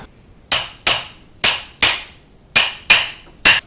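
Seven sharp metallic hammer strikes drive a pin out of an engine connecting rod, using the end of a socket extension as a punch. The blows are close and loud, in two quick clusters with a short pause between them, and no one speaks.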